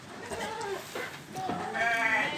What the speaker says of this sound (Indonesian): Dapat juga kambing warna hitam jenis Jawa Randu.